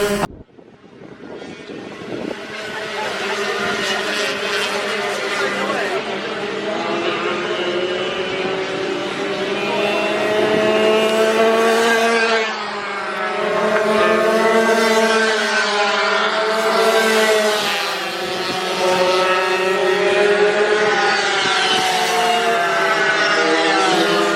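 Racing engines droning steadily at a circuit, the sound swelling and fading as cars pass through the back section toward the final corner, heard at a distance with no talk.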